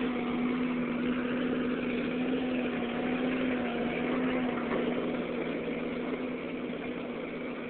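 A Ford 8N tractor engine labours steadily up a big hill, a continuous low droning hum with a steady tonal whine, moderately loud and unbroken, with no voices over it.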